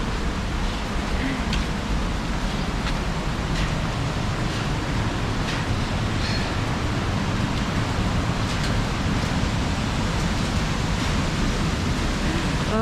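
Greeter Falls, a Tennessee waterfall in winter, roars as a steady broadband rush of falling water, loud and unbroken throughout without other sounds.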